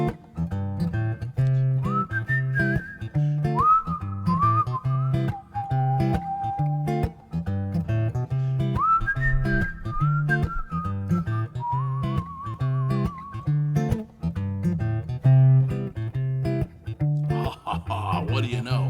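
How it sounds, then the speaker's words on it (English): Melodic human whistling layered into a loop by a looper pedal, with repeating pitched phrases riding over a steady rhythmic backing pattern, ending in a brief burst of louder noise. "So I'll do a little whistling,"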